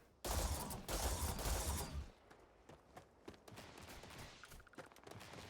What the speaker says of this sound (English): And there's some shooty bang bang going on.